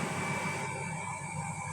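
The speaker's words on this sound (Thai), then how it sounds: "เสียงปั๊มน้ำ" A water pump running with a continuous, close drone of motor hum and steady whirring tones, unchanging throughout, with no voices.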